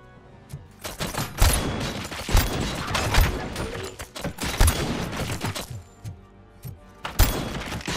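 Gunfire from a weapon in the video game Robocop: Rogue City, a rapid series of loud sharp shots with booming impacts repeating over several seconds, close and dominant.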